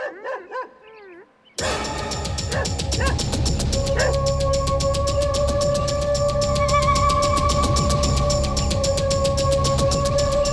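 A dog barks and snarls in an attack scene from a film, loud and continuous, with yips and whimpers under a dramatic musical score that starts abruptly after a brief vocal sound.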